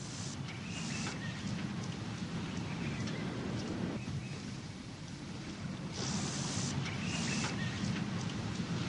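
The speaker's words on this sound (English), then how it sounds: "Lightning flashes across the night sky." A nighttime thunderstorm on the African savanna, with steady heavy rain pouring down and low rumbling thunder rolling underneath, swelling louder toward the end.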